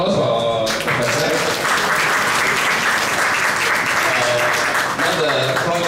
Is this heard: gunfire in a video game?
no